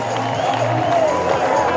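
A cricket stadium crowd at a New Zealand versus Australia one-day international in Hamilton cheering a victory, a dense, steady roar of many voices with a commentator talking over it.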